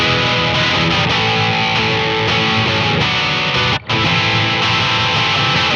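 Heavily distorted electric guitar chugs through a riff via a Blackstar Polar 2 amp simulator, thick and saturated like an amp, loud and continuous with one brief break and no speech.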